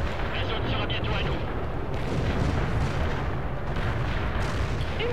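Steady heavy battlefield barrage of enemy gunfire and artillery in the World in Conflict strategy game, a continuous rumbling wall of shots and explosions with no distinct single bursts, under faint talk.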